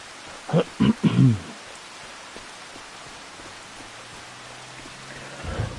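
Steady rain in Farming Simulator 25 hisses softly and continuously, with a few louder knocks at the start and no speech.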